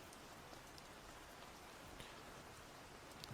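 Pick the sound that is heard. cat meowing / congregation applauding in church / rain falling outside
rain falling outside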